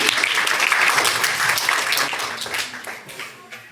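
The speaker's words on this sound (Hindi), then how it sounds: "तो दोनों के लिए जोरदार ताली हो जाए।" Loud clapping from a group in a village storytelling session, dense and continuous at first, then thinning and fading toward the end.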